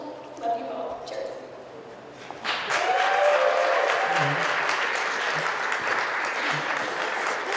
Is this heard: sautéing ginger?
no